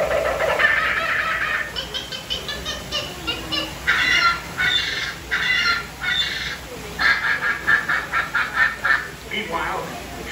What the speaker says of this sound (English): the treetops explode in a frenzy of outraged birds